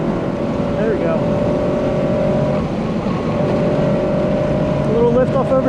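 A Subaru BRZ fitted with a rear sway bar laps Pocono Raceway, its engine holding a loud, steady drone heard from inside the cabin throughout, with a brief higher squeal near the end.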